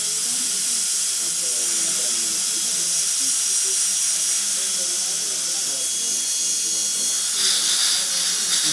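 A high-pitched dental handpiece spins a football-shaped bur around the lingual surface of a tooth during traditional-prep Lumineers veneer placement, a steady whining hiss running close and continuous throughout.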